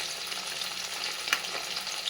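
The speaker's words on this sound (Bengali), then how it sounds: "নিয়ে মাছগুলোকে আগে ভেজে নেব।" Fascha fish fry in a well-heated kadai, a close, even sizzle that holds steady for a couple of seconds with one brief louder crackle.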